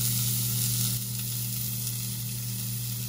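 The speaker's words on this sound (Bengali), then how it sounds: "আমরা একটু প্যাটিটা যেহেতু আনকুকড, আমরা একটু কুক করে নিচ্ছি" Uncooked beef burger patty sizzling in an oiled pan, a steady bright frying hiss that carries on close and continuous without a break, with no talking over it.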